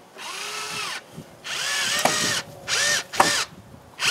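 A power drill whirs in several bursts, spinning up and winding down between short pauses, loud and close, with no talking.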